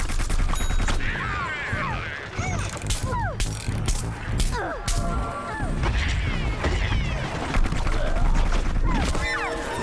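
Rapid gunfire from two players shooting in Plants vs. Zombies Garden Warfare, a dense stream of cartoonish shots, whooshes and impacts layered over game noise, with a voice speaking over it.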